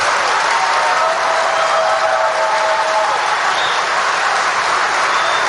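A large crowd at a Trump rally breaks into sustained applause, a loud, continuous wash of clapping and crowd noise with no pause.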